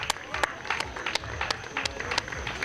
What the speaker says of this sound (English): round of applause for Ryan Harrison